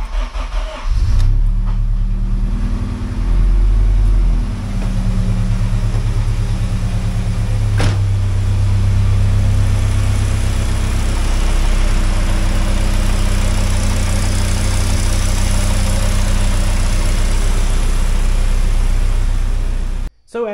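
A Honda K20A2 engine fitted with K24 cams and an RBC intake manifold, swapped into an EP3, starts up and idles, close and loud, in a steady, even rumble with a few brief rev blips.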